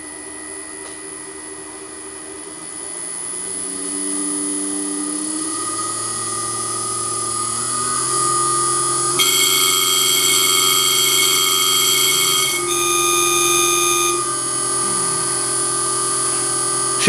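An electric motor driven by a VFD runs up, its whine and layered tonal harmonics stepping higher in pitch as speed climbs and shifts, steady and fairly loud with no talking.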